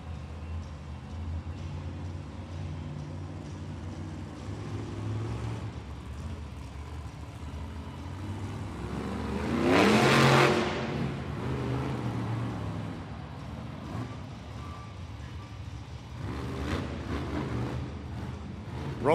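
The Megalodon monster truck's engine rumbles in a large Monster Jam freestyle arena in Hamilton, Ontario, heard from a distance under crowd and arena noise, swelling to a louder roaring rev near the middle before settling back.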